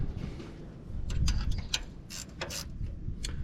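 Ratchet spanner being wound, a quick series of close clicking ticks from the pawl over a low rumbling background.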